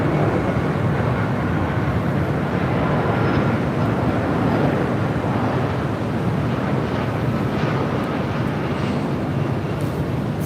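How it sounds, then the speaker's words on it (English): A United Airlines Boeing 757-200 from Boston arrives at LAX, giving a steady, broad jet roar that holds loud and unbroken throughout with no voices. "This is United Airlines 311 coming in from Boston on a 757-200"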